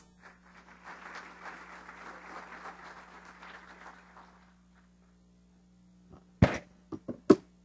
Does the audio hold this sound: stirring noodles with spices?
no